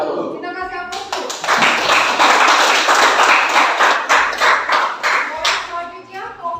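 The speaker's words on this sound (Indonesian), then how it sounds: "Kita kasih aplaus dulu" Classroom audience applauds a student group after their presentation in a teaching-practice session, a dense burst of clapping that swells and carries on for several seconds before thinning out, with faint voices underneath.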